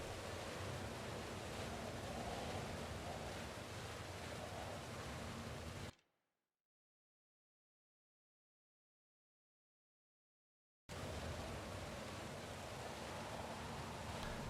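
A waterfall in the video game Pillars of Eternity gives off a steady, even rushing hiss, faint and continuous, broken by several seconds of total silence before the same wash returns.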